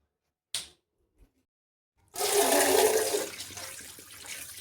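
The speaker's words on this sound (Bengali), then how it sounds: "পাটা ভালো করে ধুয়ে নিচ্ছি" Water gushes loudly and steadily from a tap while chicken feet are washed, following a few sharp clicks and taps in near silence.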